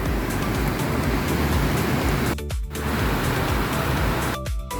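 Rain in Cainta easing off beside a creek, a steady broadband hiss of falling water that holds fairly even throughout, with two short gaps where it briefly drops away.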